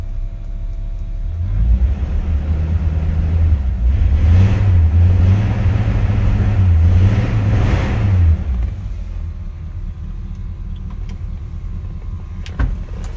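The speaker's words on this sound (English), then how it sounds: "Exhaust sounds nice and got a great nice tone to it." A 1953 Ford F100 engine revs up from idle through several rising and falling pulls, with a deep, loud exhaust rumble close by, then settles back to a steady idle.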